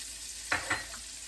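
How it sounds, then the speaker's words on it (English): Diced onion hitting hot butter, a soft hiss under two quick bursts of sizzling and stirring close by. "I'm going to add half of a diced onion, it says. You hear that sizzle?"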